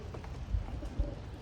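Racing pigeons coo softly inside their loft, a couple of low, brief calls that stay faint against a quiet background.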